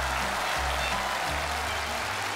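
Studio audience clapping on a Chinese television quiz show, a dense, steady wash of applause that holds at even loudness throughout.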